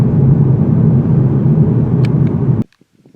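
A 2021 Toyota Supra with a six-cylinder engine is driven hard, giving a loud, deep, continuous rumble that stops abruptly near the end, leaving near silence.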